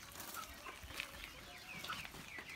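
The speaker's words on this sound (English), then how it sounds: "These are my broilers." Broiler chickens, 26 days old, on a goat, chicken and banana farm, clucking in a busy overlapping chorus with soft chirps scattered through a steady nearby flock murmur.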